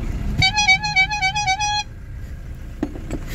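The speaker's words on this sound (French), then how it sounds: "a entendu le klaxon" A car horn sounds in one sustained, slightly wavering honk of about a second and a half over a low idling rumble at a vanlife stop, followed by a few faint clicks and knocks.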